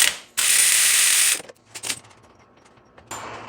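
Ratcheting clicks from a short socket on a wobble extension loosening a 13mm A/C compressor bolt on a 2008-2012 Ford Escape 2.5L, with one long close burst of rapid clicks followed by shorter scattered ratchet strokes.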